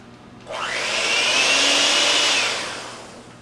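An electric mixer whirs steadily while smoothing a topping for veggie pizza cups, a loud, even motor drone that starts abruptly and tapers off near the end, with no voices.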